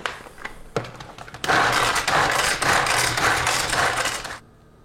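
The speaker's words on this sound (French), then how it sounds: "On va hacher les cornichons." A small hand chopper works through gherkins in a kitchen: a few sharp clicks and knocks, then a dense, continuous whirring and crunching for a few seconds before it stops abruptly.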